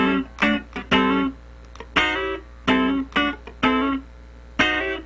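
Clean funk rhythm guitar playing the first bar of a pattern, sliding into a chord voicing fretted with the first three fingers: a run of crisp, clipped chord stabs with percussive muted scratches between them.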